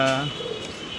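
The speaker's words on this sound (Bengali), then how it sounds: "আমার পায়রাগুলো কী করছে দেখুন। খেতে দিয়েছি, সব মারপিট করছে।" Pigeons squabbling over food: one gives a short, soft coo close by, which quickly fades into a faint background hiss.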